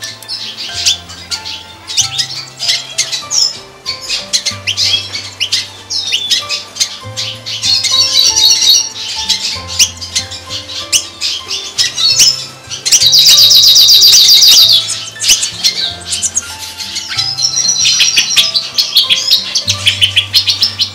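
Fledgling siskins of a captive-bred black siskin type beg with rapid, insistent high chirps and squawks as a parent feeds them outside the nest, the chatter loud and close and rising into dense bursts.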